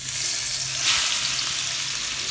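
Hot oil in a pan for a camping meal sizzles and crackles steadily, a close, bright hiss with a brief louder burst near the middle.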